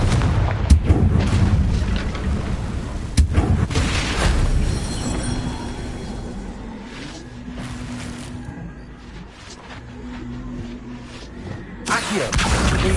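A Confringo fire spell explodes in a Harry Potter wizard video game: loud, close booming blasts at the start, a long rumbling decay through the middle, and another sharp burst near the end.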